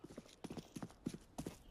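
Footsteps in Counter-Strike 2 during a competitive match, a quick series of rhythmic thuds in pairs and clusters, moderately loud and close, with no commentary over them.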